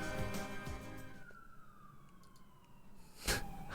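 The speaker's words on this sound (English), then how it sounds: "can you hear those sirens?" Police car sirens pass by outside, a gliding wail sweeping downward in pitch at moderate distance, fairly faint against background noise, with a brief louder burst near the end.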